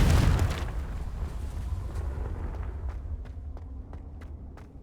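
A Confringo fire spell from the Hogwarts Legacy video game detonates in a loud booming explosion that fades into a low rumbling tail, with faint footstep-like taps afterward.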